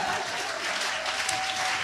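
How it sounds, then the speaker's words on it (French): A church congregation applauding and cheering during a sermon on marriage, a continuous, even roar of clapping hands that fills the room with no break. "Aidez-moi l'acclamation, là, aidez-moi."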